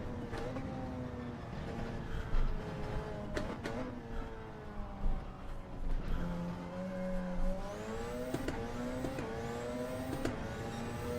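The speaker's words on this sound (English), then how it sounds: "My car sounds like the wheels, tyres are screaming at every corner now." Race car tyres squeal and scream through corners in a Le Mans racing video game, long rising and falling tones over a constant engine drone, repeated every few seconds and loud throughout.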